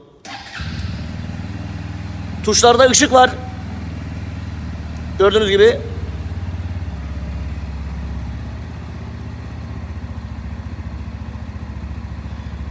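A Bajaj Pulsar NS 125 motorcycle starts and then idles with a steady low rumble throughout, while a person talks briefly over it in two short bursts.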